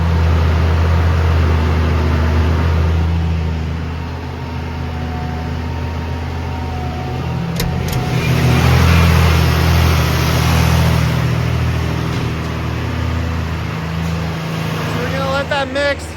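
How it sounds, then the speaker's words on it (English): On a dairy farm, a tractor powers a feed mixer at about 1600–1700 RPM, a steady low rumbling drone running throughout with faint mechanical clatter and brief sharp knocks near the end. "Mixer tractor's mixing right now,"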